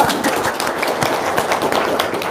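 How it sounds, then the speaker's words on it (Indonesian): An audience claps hands together in a steady, fairly loud patter of many overlapping claps with no pauses, heard alone without talk. "Tepuk tangan dong."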